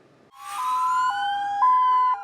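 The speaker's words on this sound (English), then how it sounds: "Sirens blaring" A Highway Patrol police car siren wails loud and close, a rising tone that settles into a steady alternating two-pitch yelp, heard alone with no talk.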